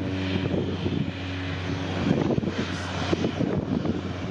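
A FedEx feeder aircraft at Hartsfield-Jackson airport in the morning, heard as a steady, moderately distant propeller-engine drone with a low rumble and some fluctuation, with no talk.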